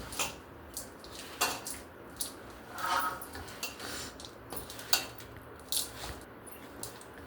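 Amla gooseberry pickle with mustard being mixed, light clinks and scrapes of a spoon against a bowl in scattered bursts, close and quiet.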